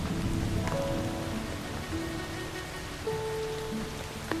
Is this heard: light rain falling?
yes